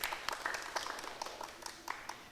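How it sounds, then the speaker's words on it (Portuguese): A small youth group claps for João, a brief, fairly faint burst of scattered hand claps that fades out within a couple of seconds. "Palmas para o João."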